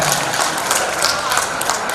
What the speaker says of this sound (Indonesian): Tepuk tangan untuk panitia semuanya.